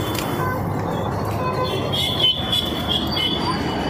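Busy street traffic heard from a balcony, a steady wash of passing vehicles and engine rumble with a brief louder surge midway. Faint talk is mixed in.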